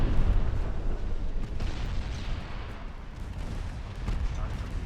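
Torpedo hits and explosions in the naval battle game Ultimate Admiral Dreadnoughts form a dense, rumbling roar of booms and bursts that runs throughout, with a voice talking over it.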